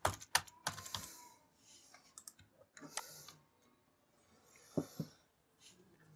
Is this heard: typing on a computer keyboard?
yes